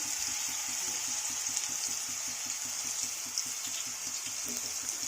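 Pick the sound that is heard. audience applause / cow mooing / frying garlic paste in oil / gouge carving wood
frying garlic paste in oil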